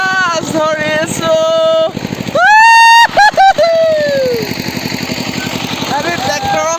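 A farm tractor engine chugs with a fast, steady thumping pulse at close range, loud throughout, while voices call and shout over it near a fishing spot.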